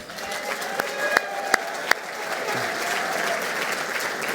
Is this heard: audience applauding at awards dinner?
yes